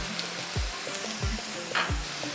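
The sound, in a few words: onions frying in a pan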